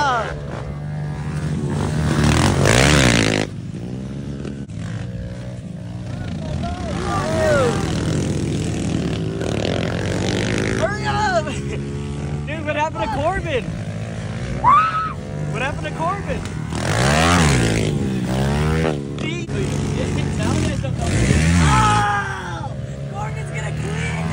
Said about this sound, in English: Big bike race is going on.